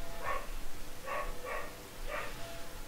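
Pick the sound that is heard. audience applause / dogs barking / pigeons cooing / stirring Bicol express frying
dogs barking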